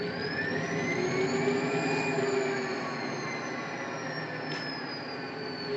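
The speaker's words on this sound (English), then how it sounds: "here's the engine sound." RailPro sound car playing a model locomotive engine sound effect, a steady diesel-like drone with whining tones, constant and moderately loud, no voices.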